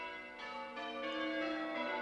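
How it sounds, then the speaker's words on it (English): Ashton Church's six bells ring on Jubilee Day, overlapping resonant peals sounding steadily from some distance, with tones layering and sustaining throughout. "Ashton Church boasts 6 bells, just as George Bowman had wanted"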